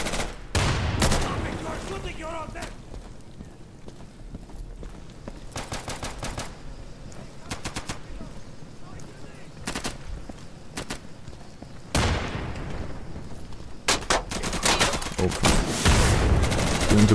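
Repeated bursts of automatic gunfire in the tactical shooter Insurgency, sharp cracks clustered in volleys across the whole stretch, with short gaps and a heavier burst near the end, mixed with faint game noise and a voice.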